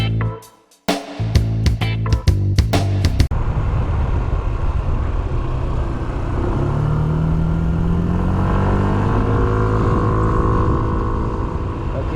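A Yamaha Smax scooter engine drones steadily as it climbs a grade, near and fairly loud, after a burst of sharp knocks at the start, with the engine pitch rising and wavering.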